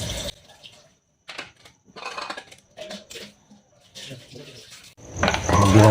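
Soaked vegetables for kimchi are rinsed by hand in water: intermittent splashing and sloshing bursts separated by short pauses, ending in a louder rush of running water.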